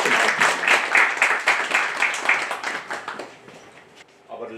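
Audience applause at a college event for a professor, brisk and close clapping that fades over several seconds, then a voice begins speaking.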